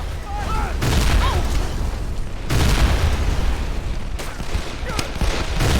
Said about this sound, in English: they can't hear over the gunfire, so let them listen to gunfire.